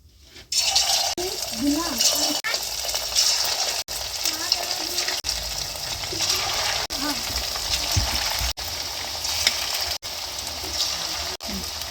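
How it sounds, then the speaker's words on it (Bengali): Chicken pieces frying in white oil in a hot kadai for chilli chicken: a loud, steady crackling sizzle that runs throughout, briefly dipping a few times, with a voice talking over it. "চিকেনটা ভেজে নিচ্ছি"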